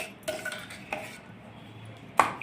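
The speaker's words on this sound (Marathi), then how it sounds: "आता आपण हे खजुराची चटणी ह्यात काढून घेत आहोत" A spoon clinking and scraping against a dish while date, tamarind and jaggery chutney is transferred into it: a few sharp metallic taps, a quiet pause, then one louder clink.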